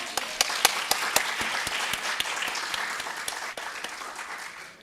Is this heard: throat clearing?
no